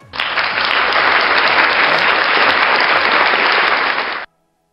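A dense, loud round of applause from a crowd, sustained evenly for about four seconds and then cutting off abruptly to silence.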